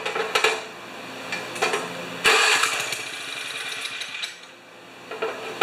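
A 1973 Tecumseh snow blower engine sputters and catches in short bursts, then runs unevenly with rough, loud firing close by.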